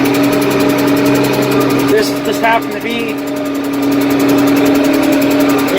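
A 1586 tractor engine running close by with a steady, even rumble and drone, while someone speaks briefly over it partway through.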